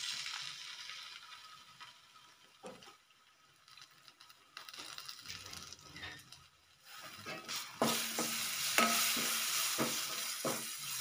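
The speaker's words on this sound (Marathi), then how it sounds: "आता आपण सगळं परतून घेऊया। त्याच्यामध्ये घालणार आहोत आपण आलं लसणाची पेस्ट," Vegetables sautéing with ginger garlic paste in a pan, steady sizzling and frying hiss broken by scraping stirs and a few clinks of the spatula, growing louder toward the end.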